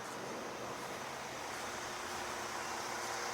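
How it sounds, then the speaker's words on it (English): Silverado 3500 pickup with a built 454 engine and ProCharger supercharger runs steadily nearby, a continuous broad hiss and hum with no voices. "Has a nice little whine from the supercharger."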